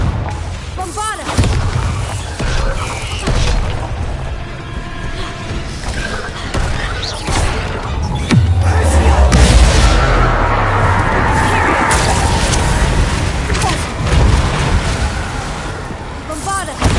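Bombarda explosion spells go off in the Hogwarts Legacy video game, heavy booms and rumbling blasts repeating over a sustained, loud, churning background of game sound and music.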